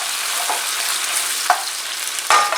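Mung bean sprouts go into a hot pan and fry with a bright, steady sizzle, broken by a few sharp clatters from stirring or tossing, loud and close, with no talking.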